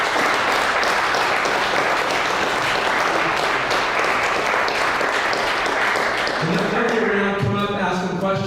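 A crowd at an evening business event applauds the event sponsors, producing steady, dense clapping that continues for several seconds before thinning out as a voice begins over it.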